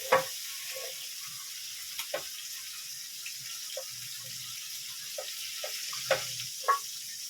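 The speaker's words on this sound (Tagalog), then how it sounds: "iprito mo yan na kagad ang itlog" An egg frying in a pan while making a ham and cheese omelet, a faint, quiet sizzle broken by occasional small pops and clinks, with no talking.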